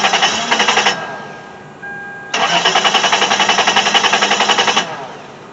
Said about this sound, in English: But let's crank the engine.